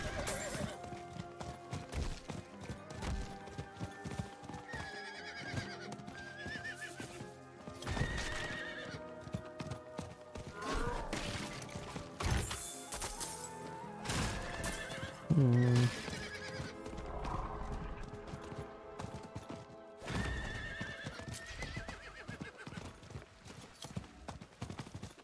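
Horse neighs and clip-clopping hooves from the Diablo IV video game, loud and near, running among game music and effects, with occasional speech-like sounds mixed in.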